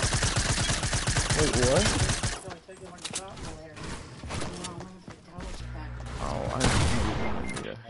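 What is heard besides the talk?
gunfire in a shooter video game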